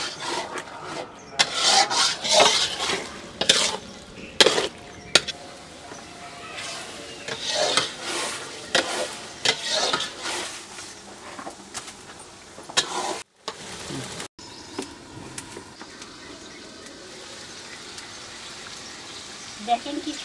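Goat fat sizzles and rasps in a pan while a spoon scrapes and stirs, with bright irregular scraping strokes over a constant frying hiss. A voice talks intermittently throughout.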